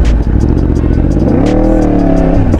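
A Yamaha MT10-SP motorcycle engine idles with a deep, loud, close rumble, then revs in first gear, its pitch climbing and holding before dropping back, with no talk over it.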